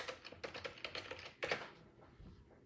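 Fast typing on a computer keyboard, a quick run of close, light key clicks that thins out and fades into quiet background noise after a couple of seconds. Nobody speaks.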